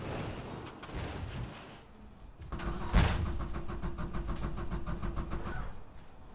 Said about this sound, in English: the way the engine is still trying to tick over and over but failing